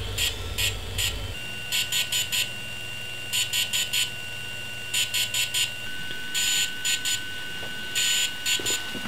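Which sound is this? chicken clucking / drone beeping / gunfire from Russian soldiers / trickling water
drone beeping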